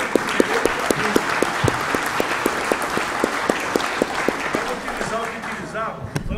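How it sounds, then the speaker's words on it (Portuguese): Audience applause at a union congress lecture in Gramado, a steady wash of clapping under a speaker's voice, with crisp individual claps standing out before it thins near the end. "Palmas para vocês"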